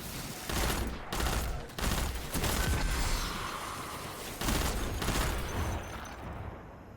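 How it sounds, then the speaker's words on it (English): Rapid bursts of gunfire from Destiny 2 crackle in repeated volleys, loud and near, with brief gaps between dense stretches of shooting. "where is that shooting coming from?"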